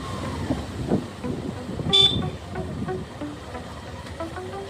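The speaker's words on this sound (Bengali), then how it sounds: "বাইক গাড়ি" Bikes and cars rumble past on a road at the Teesta Barrage in Jalpaiguri, with one short, sharp horn toot standing out midway over the traffic noise.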